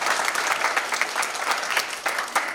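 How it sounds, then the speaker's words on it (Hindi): An audience at a Louis Braille birth anniversary ceremony claps loudly for a speaker. The applause is dense and sustained, with crisp individual claps throughout, and no voices cut through. "जोरदार तालियां इनके लिए एक बार फिर।"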